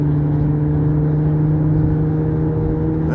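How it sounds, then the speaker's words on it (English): A car engine hums loudly and steadily at close range with a steady droning tone as the vehicle slowly pulls away, no voices over it. "That car took a while to take off."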